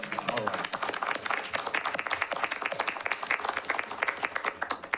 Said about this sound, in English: I'm going to do a slow clap